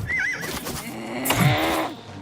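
A horse in the video game Oblivion Remastered whinnies loudly with a wavering, high neigh, followed by a lower snorting call, clear and close with no talk.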